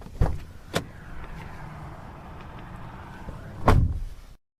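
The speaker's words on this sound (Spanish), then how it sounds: "Abren la puerta" A house's front door being opened, with sharp knocks or clacks of the latch near the start and a louder thud at the end, all close by with a low room hum between them.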